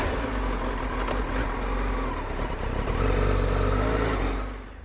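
A stock street fighter motorcycle on a test ride, its engine droning and revving hard with a steady, rising roar that swells near the end and then eases off; no voices.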